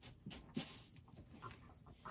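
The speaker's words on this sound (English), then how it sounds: "Every time I hit record, my dogs start making noise." Dogs indoors make restless noise, quiet panting and soft whimpers close by, faint and brief with no talking.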